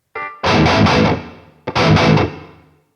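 Electric guitar played through a Quad Cortex room reverb, two strummed distorted chords each ringing out into a roomy reverb tail before fading to silence.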